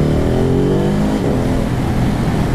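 A 2020 Ducati Hypermotard 950 SP motorcycle accelerates hard, its engine loud and close with a rising, continuous rev that holds for the whole stretch.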